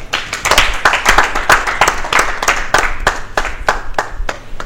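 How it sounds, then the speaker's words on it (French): Studio audience clapping for an arriving performer, a loud, dense burst of many hands with sharp individual claps standing out, sustained throughout. "Sous vos applaudissements"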